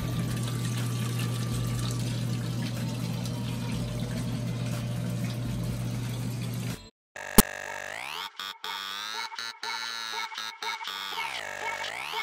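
Water flushing through potted grow plants in a 5x10 grow tent, a steady pumping, pouring stream that runs for about seven seconds, then stops and gives way to a different, quieter tonal hum with brief dropouts.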